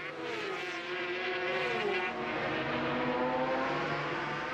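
Yamaha and Suzuki 500cc Grand Prix two-stroke motorcycles racing, high shrill engine wails rising and shifting as the bikes scream past, loud and continuous.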